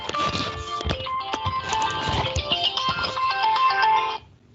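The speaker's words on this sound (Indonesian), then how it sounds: "Sebentar ada telepon." A phone ringtone plays loud and close, a melodic electronic tune repeating for about four seconds before cutting off.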